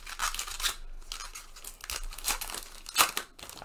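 A 2019 Allen & Ginter baseball card pack being ripped open close up, a run of quick crinkling foil tears and crackles in short bursts, with no talk.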